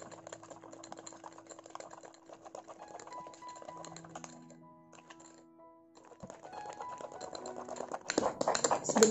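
A small spoon whisks Nescafe dalgona coffee in a cup, giving rapid close clinking and scraping, quieter in the middle and building to a loud, fast burst at the end; no one talks.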